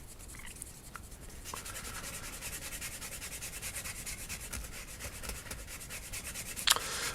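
An old circuit board from a Bang & Olufsen unit, likely two-sided, being polished by hand with rapid, steady back-and-forth rubbing strokes, close and continuous, ending with a brief sharp scrape.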